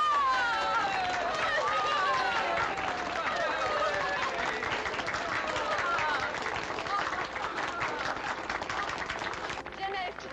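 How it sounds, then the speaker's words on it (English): A crowd claps and applauds steadily throughout, welcoming a heroine of the French wartime resistance, with people talking and calling out over the clapping. "Here's the one they should clap for."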